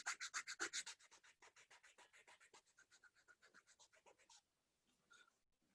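Rapid back-and-forth sandpaper strokes beveling an edge for an embossing workshop, about twenty in a steady rhythm, loud at first then softer, ending with a couple of faint rubs after a pause.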